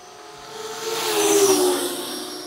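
Motors on a heavy FPV drone carrying an expensive camera spin up under throttle, a high whine swelling louder and rising in pitch before easing slightly, with no talking.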